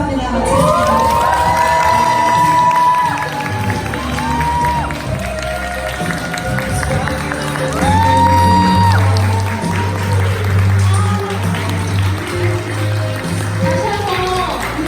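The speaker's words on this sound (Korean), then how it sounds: "다시 한번 뜨거운 박수 부탁드립니다" A seminar audience erupts in sustained cheering and shouts of approval at the close of a business talk, loud and lively throughout with whoops rising above the crowd and an announcer's voice heard partway through.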